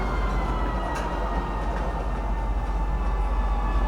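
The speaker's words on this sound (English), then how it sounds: "Please watch your step when disembarking the train." A train pulls in at the City Gates station in Lorville on Hurston in the Star Citizen video game, giving a steady, loud mechanical rumble with a faint high whine on top.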